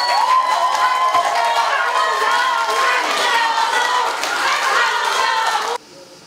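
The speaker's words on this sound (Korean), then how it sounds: "여러분 함경우 후보에게 뜨거운 함성 부탁드리겠습니다" A crowd cheers and shouts loudly and continuously at the opening of a People Power Party preliminary candidate's election campaign office, the roar holding steady for several seconds before cutting off abruptly.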